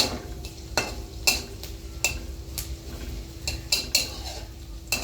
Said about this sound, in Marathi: हे छानपैकी परतून घ्यायला आहे कांदा